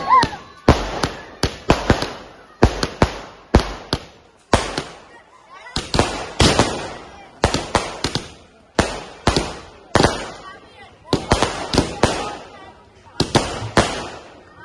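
Fireworks and firecrackers burst at an election celebration held after a loss, a long irregular series of loud sharp bangs and crackling volleys with brief gaps, close by and echoing.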